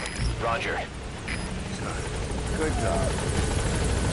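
Helicopter arriving at a landing zone in Metal Gear Solid V, a continuous rotor whir and engine rumble filling the scene under short radio-style voice exchanges.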